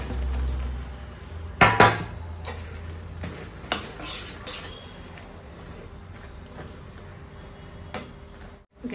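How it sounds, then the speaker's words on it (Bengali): Fried pakoras are dropped and stirred into bubbling curry in a pan, with a few sharp clinks of a spoon against the pan over a low simmering sizzle, close up. "এবার আমি এর মধ্যে এই পকোড়াগুলো দিয়ে দেবো।"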